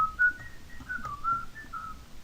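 A person whistles a short, wandering melody, clear and close, with brief pauses between phrases and no talking.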